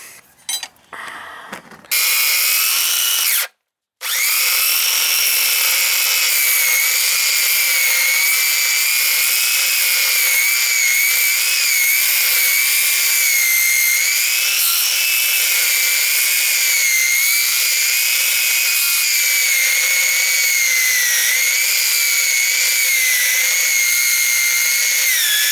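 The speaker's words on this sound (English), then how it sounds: "Well, I might have to just grind them off." Angle grinder cutting through old frozen original cables on a Trackless MT5TD, a loud continuous high-pitched whine that runs for over twenty seconds after a brief start and a momentary cutoff near the beginning.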